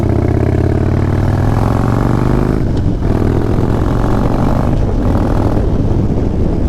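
A Harley-Davidson motorcycle engine rumbles close by with a deep note through an aftermarket exhaust, its revs climbing, briefly dropping at a shift, then holding steady again.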